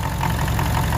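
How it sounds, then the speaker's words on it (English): An old Ferguson MF35 diesel tractor with glow plugs runs in cold weather, its engine chugging loudly and steadily at close range with no talking. "this old tractor will actually run with the glow plugs"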